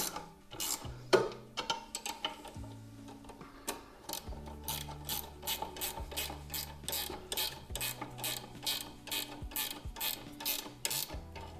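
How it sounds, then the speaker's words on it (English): Ratchet wrenches click in rapid bursts while tightening the bolts on Outback Motortek pannier racks for a third-generation Kawasaki KLR650 motorcycle, with steady pawl ticking repeated through the clip alongside low mechanical hum. "10mm and an 8mm to tighten this up. Ratchet wrenches make it easy."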